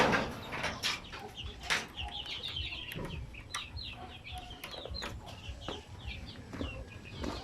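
Native chickens on a farm cluck and chatter in short repeated calls, several birds close by over a steady rustling farmyard background, with occasional sharper squawks.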